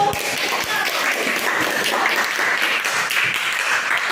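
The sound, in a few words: classroom children applauding a group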